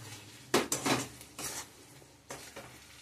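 Fried potatoes tip into a pan of garam masala and spices for a pea and paneer curry, bringing a few sharp clanks of a metal spoon against the pan and faint stirring, with no talking.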